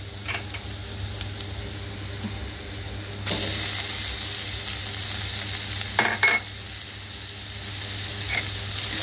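Tomatoes going into a pan of onions frying for a prawn masala, a steady sizzle with a sudden louder hiss as they drop in, plus a few scraping stirs against the pan.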